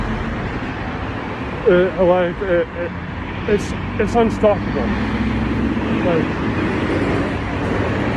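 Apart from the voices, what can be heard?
road traffic noise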